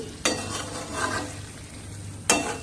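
Ash gourd curry being stirred with ghee in a pan, a soft continuous sizzle with two sharp scraping strokes of the spoon, close and alone without talk.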